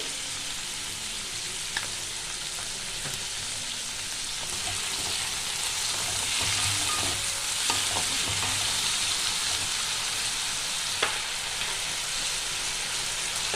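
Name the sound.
potatoes and onions frying and being stirred in pan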